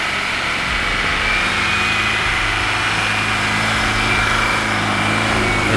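A 1973 Land Rover Series 3 engine runs steadily up close, a continuous loud mechanical drone with no voices over it.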